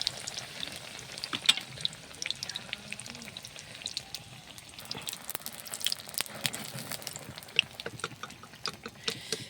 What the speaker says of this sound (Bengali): আমার বেগুনি সব ভাজা হয়ে গেল।